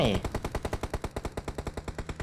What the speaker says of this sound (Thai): มีเสียงปืนอีก